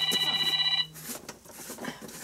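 A telephone rings with a bright electronic trill that cuts off after under a second, leaving low room noise.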